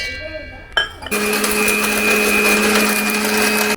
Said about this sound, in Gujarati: પહેલાં થોડા સિંગદાણા ક્રશ કરી દઈશ